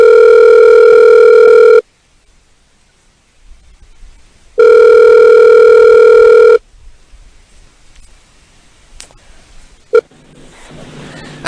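A telephone line gives two loud, steady electronic tone bursts of about two seconds each while a call is placed back, with a quiet pause between them. A sharp click follows near the end.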